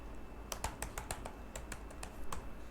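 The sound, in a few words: typing JavaScript code on computer keyboard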